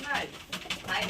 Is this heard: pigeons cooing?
yes